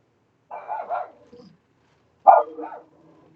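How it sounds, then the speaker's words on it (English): A dog barks alone at close range, first a quick cluster of two or three yips with a short trailing whimper, then after a pause one more sharp bark with a brief tail. "That's my dogs."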